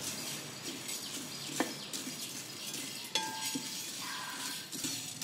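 Cumin and pepper dry-roast in a pan over a single-log wood fire, with a soft steady rustle and sizzle and a few sharp metallic clinks as a spoon stirs against the pan.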